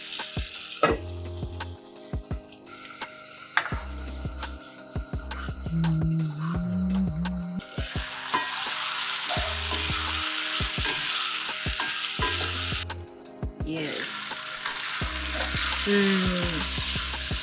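Tomatoes cook down in a covered pan with a steady, moderate sizzle and bubbling, interrupted by clinks and scraping stirs of a utensil against the pan.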